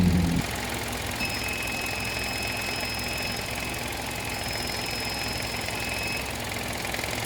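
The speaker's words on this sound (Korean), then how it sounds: "팬 도는 소리가 들리죠?" A car's radiator cooling fan runs at high speed with the air conditioning on, a steady broadband whoosh with a faint tonal whine, continuous and fairly close, after a brief low thump at the start.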